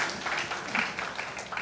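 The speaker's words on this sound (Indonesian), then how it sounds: "tepuk tangan untuk Yesus Tuhan." Short applause from a church congregation during a sermon, a soft, even patter of many hands clapping for under two seconds, distant and fairly quiet.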